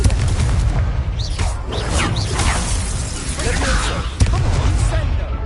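A Confringo spell blast in Hogwarts Legacy: a fiery boom layered with whooshing magical effects and a sharp crack near the end, over dense, busy game combat sound.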